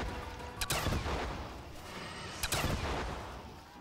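Two loud bursts of gunfire in Call of Duty Zombies on the custom Mario Block map, each a short rapid volley roughly two seconds apart, with a rumbling game background between them.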